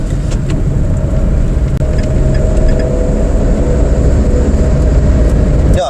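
A truck passes on the road outside a moving car, its engine a steady low rumble heard from the cabin, continuous and fairly loud throughout with no talk.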